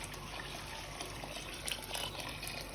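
Water is poured onto rice for Iraqi kabsa, a steady soft gushing stream heard faintly and close, without speech.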